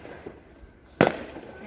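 A Guy Fawkes firework bursts in the sky in New Zealand, a single sharp bang after a quiet stretch, heard from a distance with faint background sounds before it.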